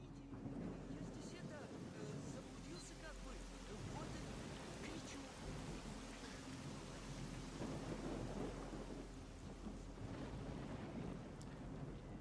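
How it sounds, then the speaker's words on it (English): Thunderstorm with heavy rain in the game S.T.A.L.K.E.R.: Shadow of Chornobyl Enhanced Edition, a constant roaring downpour with deep rumbling thunder underneath, broad and enveloping throughout. "It sounds like a nightmarish of a thunderstorm, though."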